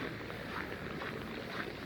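Steady wind blows outdoors on a city street in Yakutsk, a continuous broadband rush with no gusts or breaks, fairly loud throughout.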